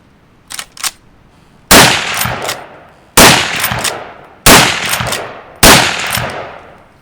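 Browning BLR Tracker Lightweight lever-action rifle in .308 Winchester fires four loud, sharp shots spaced about a second and a half apart, each with a ringing decay, after two soft mechanical clicks from the action.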